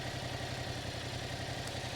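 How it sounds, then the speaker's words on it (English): A motorcycle engine idles steadily at close range, a low, even putter with a regular pulsing rhythm and no revving. "Listen to the bike, it's just idling."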